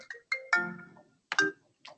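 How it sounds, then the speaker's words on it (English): A phone ringtone sounds during a presentation, with a few short melodic tone bursts in an irregular pattern, clear and moderately loud in an otherwise quiet room. "the phone rang"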